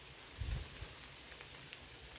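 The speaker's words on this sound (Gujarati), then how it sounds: "જો હજી ચાલુ છે વરસાદ" Steady rain falls on leaves outdoors, a faint, even hiss with a few soft low thumps near the start.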